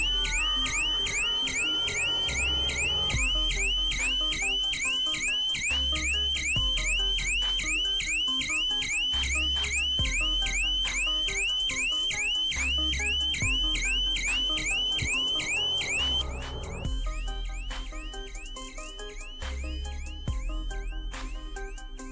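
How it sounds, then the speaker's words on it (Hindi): A shutter security alarm blares as a shop shutter is lifted, a loud electronic siren repeating rapid rising chirps in a steady pulsing cycle with a low beat beneath, changing pattern briefly near the end. "मैं आपके सामने उठाऊंगा और इसमें हैवी अलार्म बजना शुरू होगा"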